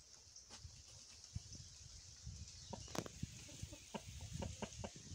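Chickens and roosters on a farm, scattered short clucks and soft calls, some near and some farther off, over an insect-like background whine.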